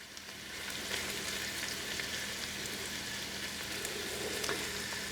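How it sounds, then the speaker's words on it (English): Onions sizzle and fry steadily in a pan as they cook down for a pea and pesto risotto, a continuous moderately loud crackle with occasional stirring and no talk. "So we're just getting our onions cooked down."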